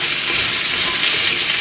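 Food frying in hot coconut oil sizzles loudly and steadily up close while being stirred, a dense crackling hiss with no voices.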